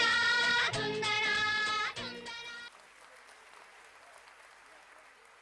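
Audience applause at a school's annual concert and prize giving, heard after the music of a performance stops. It carries on as a steady, fairly faint wash of clapping.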